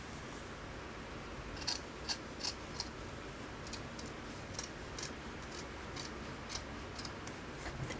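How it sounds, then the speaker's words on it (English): Scissors snip through the top of a paper cape pattern piece in a quiet room, a few faint, crisp cuts spaced unevenly over steady low background hiss. "I'm going to trim this off first"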